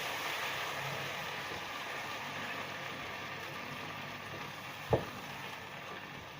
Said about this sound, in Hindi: ये टमाटो डाल देंगे। बिस्मिल्लाह रहमान रहीम। और अच्छे तरीके से मिक्स कर लेंगे।